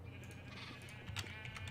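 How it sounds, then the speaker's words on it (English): A Minecraft sheep bleats several times in The Crafting Dead modpack, short wavering cries over a quiet steady background hum, fairly faint and at middle distance. "now I can breed the purple sheep"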